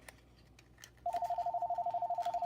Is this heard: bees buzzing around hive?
no